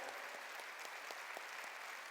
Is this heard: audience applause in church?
yes